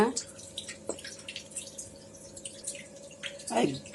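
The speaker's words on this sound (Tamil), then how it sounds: "ஒரு பாத்திரத்தில் தண்ணி எடுத்துக்கோங்க" Water is put into a cooking vessel, heard as faint, uneven trickles and drips with a brief splashier gurgle near the end, while someone speaks quietly.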